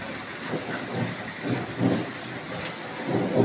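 Steady rain falls with low rolling rumbles of thunder swelling and fading several times, no voices present.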